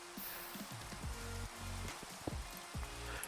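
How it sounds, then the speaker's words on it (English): Rain falling in a Minecraft game world, a faint, steady hiss of patter with soft scattered drops, quiet and continuous over a low background rumble. "the rain really is relaxing, isn't it?"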